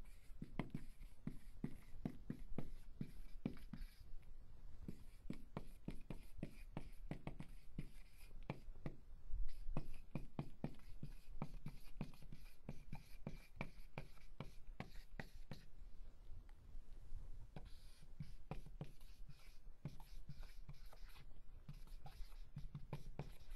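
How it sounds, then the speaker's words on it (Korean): Marker or chalk writing out a TOEIC test question on a classroom board, a fast run of close scratchy strokes and taps continuing steadily with brief pauses between words. "그러면 자, 한번 문제 써볼게요."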